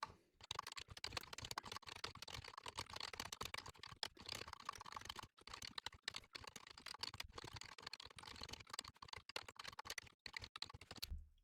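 Someone types code on a computer keyboard in quick, irregular bursts of close clicking keystrokes with brief pauses between runs.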